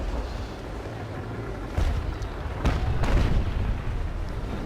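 Cannon fire from an enemy sailing warship in the naval combat game Naval Action, a few heavy booms rising over a steady rumble of wind and sea.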